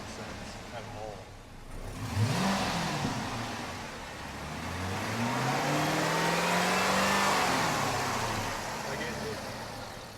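A V8 Dodge Charger engine that will not settle into idle, revving up in a rising whine, easing off, then swelling again in a long surge, close by, with a brief spoken word near the start.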